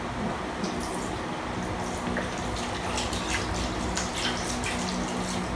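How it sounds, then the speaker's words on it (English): Hands rinsed under a running tap during handwashing, a steady, close stream of water splashing continuously with small irregular drips and splatters throughout. "Now, rinse your hands on running water."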